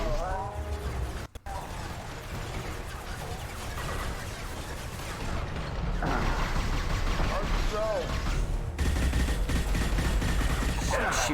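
Rapid gunfire from the video game Mass Effect 2, sustained bursts and impacts running loud through the whole stretch with shouted voices and game chatter over it.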